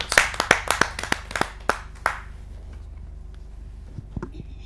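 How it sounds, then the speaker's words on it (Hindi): Audience applause at a Hindi kavi sammelan poetry gathering: a burst of sharp, close hand claps for about two seconds, thinning to a few scattered claps before fading into quiet room tone. "आप सबकी जोरदार तालियां।"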